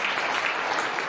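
An audience at a citizen-engagement conference claps in a short, dense burst of applause, many hands together at moderate volume, with no speech over it.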